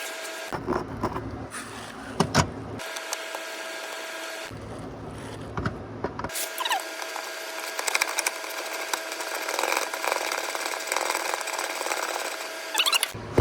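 A power tool runs nuts back onto the fuel filter mount of a third-generation Toyota 4Runner, whirring in several bursts that start and stop before one long continuous run, close and steady, with no voices.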